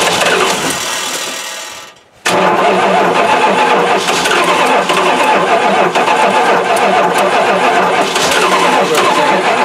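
An old 360 engine, unstarted for three years, cranks briefly, cuts out for a moment, then catches and roars into a loud, steady run close by, with flames sucked into the intake.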